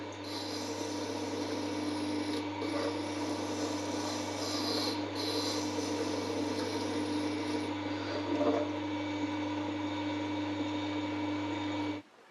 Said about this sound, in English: Now that grinding on the Tormek took me no more than 2 minutes